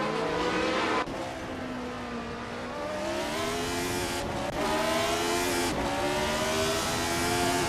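A Lotus 72C race car in a racing video game, its engine screaming loud and close with rising pitch sweeps as it accelerates, brief dips at gear changes, then revving back up, with no voices.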